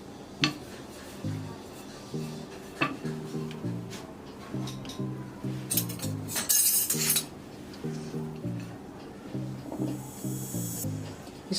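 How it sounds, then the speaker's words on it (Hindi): Fork tines repeatedly prick thin rolled maida dough for papdi on a kitchen surface, a quick series of light taps and scrapes with faint clinks, close and steady throughout, with no talking. "कांटा का चम्मच लेके इसमें छेद कर लेना है"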